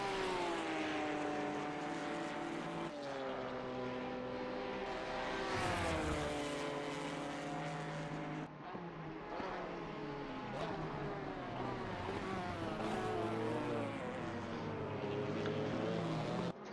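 A race car engine in Assetto Corsa Competizione screams near the top of its rev range, a sustained high whine that rises and falls with gear changes across the lap.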